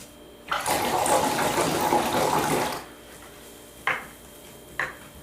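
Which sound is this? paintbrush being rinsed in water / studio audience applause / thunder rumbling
paintbrush being rinsed in water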